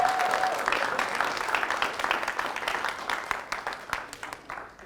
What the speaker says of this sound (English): a big round of applause for the mentors